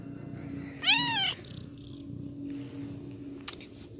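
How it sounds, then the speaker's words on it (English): A pet cat with a collar gives one clear, rising-and-falling meow, close and loud, over a quiet room with a steady low hum. "My cat will never stop."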